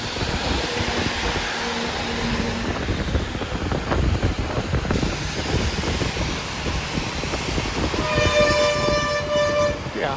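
Loud traffic rumble in heavy rain with a long, sustained bus horn blast near the end, from a TNSTC bus between Vellore and Chennai, sounding close and piercing over the steady road noise.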